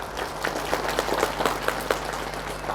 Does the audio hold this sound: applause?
yes